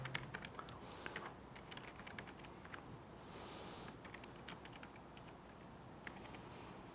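A computer keyboard being typed on to enter domain account credentials, with quiet irregular bursts of keystrokes and short pauses, close but faint in a quiet room.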